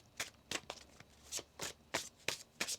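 A deck of tarot cards is riffled and shuffled by hand, a series of about eight crisp, close flicking bursts in an uneven rhythm with short pauses between.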